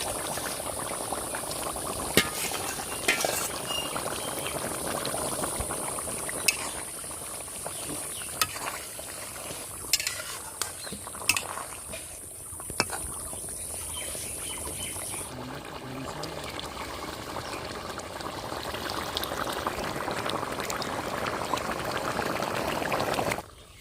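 Shrimp tipped into a pan of pointed gourd cooking in a village-style curry, sharp sizzling pops and clatters followed by steady bubbling and frying that swells toward the end.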